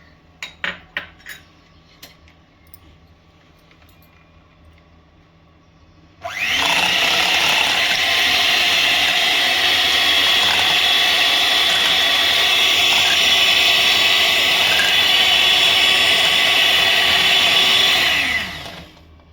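Mango pulp and lassi spin in a kitchen mixer grinder, which starts after a few clinks and whirs loudly and evenly for about twelve seconds before winding down, with no talking.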